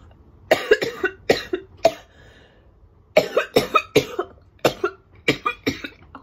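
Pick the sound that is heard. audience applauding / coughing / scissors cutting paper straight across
coughing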